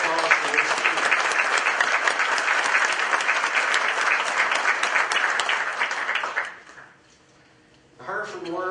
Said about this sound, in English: Craig Huffines deserves some well-earned applause for this too.